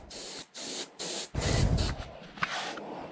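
A spray gun painting the tail of a model airplane, sounding as short hissing bursts followed by one longer, louder spray, close and heard alone.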